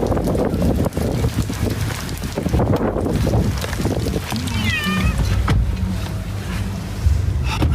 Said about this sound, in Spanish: quedó captado este hombre rescatando a un gato